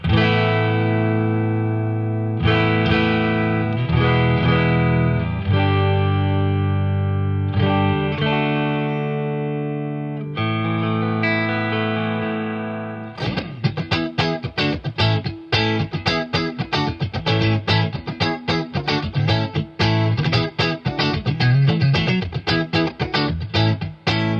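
Mayones QM6 electric guitar on a clean tone, first sustained chords ringing out, then brisk strummed rhythm with steady strokes, played alone and fairly loud.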